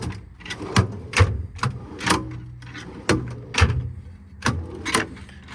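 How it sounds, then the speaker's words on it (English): C-Tech drawers on a 2021 Ford F550 service truck slide open and shut close by, giving a rapid series of about a dozen sharp clacks and rolling thuds in an uneven rhythm. "All the drawers slide super nice, really good action on them."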